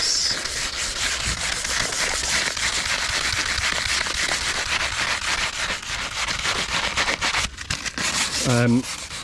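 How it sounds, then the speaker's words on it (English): Filler on a boat being sanded by hand, a steady rhythmic rubbing rasp with back-and-forth strokes, close and loud, broken by a short pause and a brief tonal chirp near the end. "You can see it sands down quite nicely."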